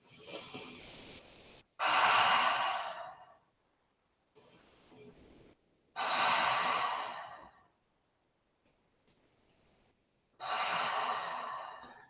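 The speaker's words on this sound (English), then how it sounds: "Take 3 breaths here." Slow, deep breaths during a yoga child's pose in a quiet studio: three long exhales heard up close, each a soft rushing sigh, separated by quieter inhales and pauses.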